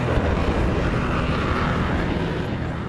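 An F-117 Nighthawk stealth aircraft in flight produces a steady, loud, broadband jet roar that fills the whole span without pause.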